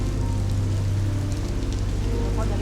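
Steady rain pouring down outdoors, a dense, loud, even hiss of drops hitting surfaces that holds unbroken from start to end.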